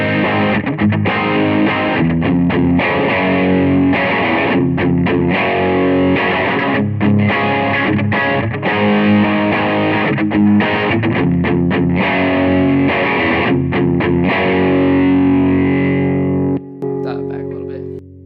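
Fender Jaguar electric guitar pushed through high-gain distortion, sounding as dense sustained chords with rhythmic chugging accents, loud and continuous for most of the stretch before a final ringing chord at the end.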